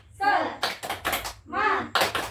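Voices chant the 'tepuk semangat' routine in an online class, with sharp bursts of hand claps between the sung phrases, close and rhythmic.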